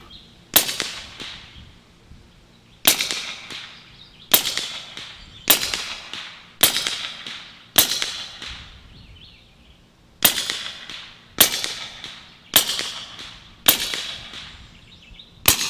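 An air rifle fires pellets at about 850 feet per second, with eleven sharp, loud, close cracks spaced roughly a second or two apart, each trailing into a brief decay, and no talking.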